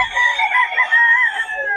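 Lakeborn banded gamefowl roosters crow and cluck up close, one loud drawn-out crow with wavering pitch overlapping choppy clucks, with no talk over it.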